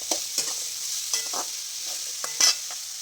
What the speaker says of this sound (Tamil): இது நல்லா வதக்கிட்டு வந்து வச்சுக்கணும்